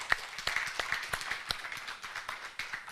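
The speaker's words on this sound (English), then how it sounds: "I would like to say offer an applause for everybody that helped" Audience at a symposium closing clapping: a faint, sparse patter of individual claps that stays loose and uneven over a few seconds, heard from a distance.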